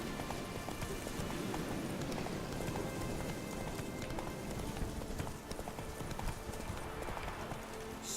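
Horse hooves galloping steadily in The Witcher 3: Blood and Wine, a continuous rapid clip-clop rhythm over ambient game sound and wind, with a brief neigh-like note near the end.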